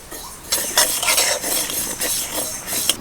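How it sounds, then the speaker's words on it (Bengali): White and black mustard seeds are stirred in a dry pan over heat, a scraping, rustling stir with faint sizzle, repeated strokes close and steady with no talk. "সেজন্য আমি সর্ষে দুটোকে আলাদাভাবেই ভেজে নিচ্ছি একদম হালকাভাবে মানে গরম হলেই হবে"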